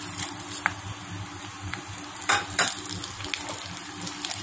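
Black sesame seeds crackle and sizzle in hot oil for a mango-ginger pickle, a close, busy spatter broken by sharper pops and the clink of a stirring spoon against the pan.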